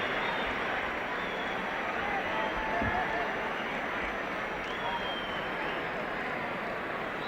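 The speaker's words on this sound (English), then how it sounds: "Just listen to the noise of this crowd" A loud, dense roar from a packed boxing arena crowd awaiting the 1971 Muhammad Ali vs Joe Frazier fight, a steady wall of cheering and chatter with faint talk mixed in throughout.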